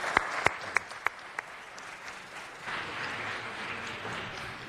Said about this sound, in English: So give them a round of applause and welcome our great Village Glen School.